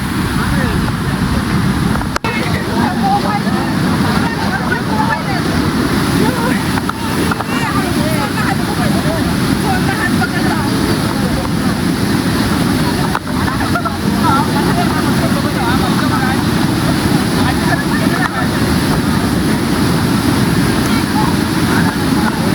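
Steady rushing water of a monsoon stream near Kalu Waterfall in Malshej Ghat fills the scene, a continuous broad wash of flow with a slight windy rumble, no speech over it.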